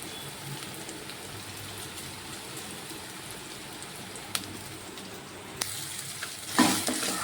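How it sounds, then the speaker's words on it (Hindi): Sliced onions sautéing in a pan give a soft, steady hiss close by, with a few sharp clinks of a utensil and a louder crackling burst near the end; no one speaks. "इसको मैं इसी तरह से प्याज को 2-3 मिनट सौते करके थोड़ी देर रख दूँगी।"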